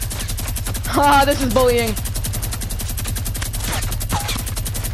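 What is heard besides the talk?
gold minigun firing in a video game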